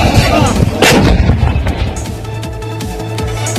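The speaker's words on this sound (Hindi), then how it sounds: "पंजशीर घाटी में तालिबान ने MM-30 होवित्जर तोप से गोले दागे।" An MM-30 howitzer fires shells in the Panjshir Valley. Loud booming blasts crack out close by, one after another, and rumble away between shots.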